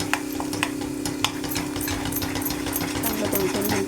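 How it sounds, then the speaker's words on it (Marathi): Homemade masala is stir-fried in a pan for a Marathi home-cooked paneer dinner, a steady sizzle with scraping spatula strokes and a constant low hum, with someone talking over it. "चांगलं 2-3 मिनटं असं परतून घ्यायचं"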